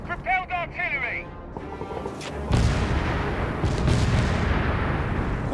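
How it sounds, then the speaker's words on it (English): Self-propelled artillery firing in the World War II strategy game Company of Heroes 3, a heavy boom that rolls into sustained rumbling battle noise after brief clipped voice lines from units at the start. "self-propelled artillery"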